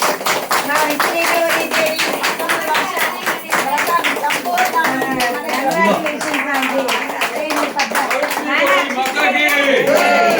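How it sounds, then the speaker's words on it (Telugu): A group claps their hands together during a Savitri Gauri devotional puja. Dense, rhythmic claps run throughout, mixed with voices singing and talking over them. "అందరూ చప్పట్లు కొట్టాలి."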